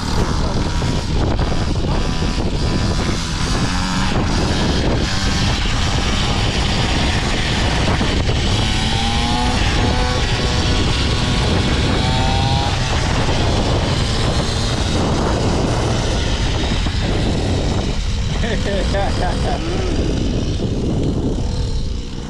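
A child's small budget dirt bike bought from Temu roars loudly and close in a continuous, rough engine drone, with people's voices faintly mixed in.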